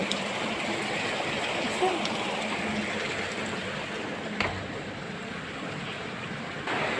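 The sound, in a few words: heavy rain falling, water from the roof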